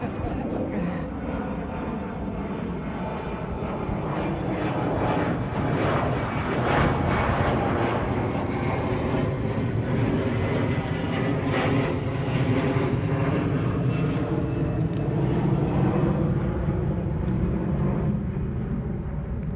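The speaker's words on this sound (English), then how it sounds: "I'm waiting for the plane." A loud, continuous airplane roar fills the whole stretch, steady and broad, as if passing low overhead without letting up.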